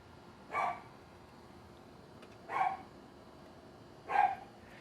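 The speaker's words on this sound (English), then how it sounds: "There's the dog." A dog barks three times, evenly spaced about two seconds apart, each a short, fairly distant bark over quiet outdoor background hum.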